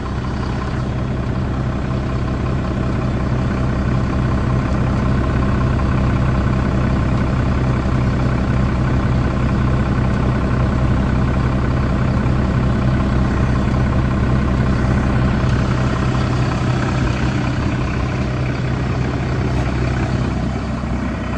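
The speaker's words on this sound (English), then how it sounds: "leaving the engine going for a second, it's not hot, I've only just turned it on" A heavy truck engine with a damaged exhaust idles continuously up close, freshly started and still cold, a steady low rumble with a faint rhythmic throb and no voices.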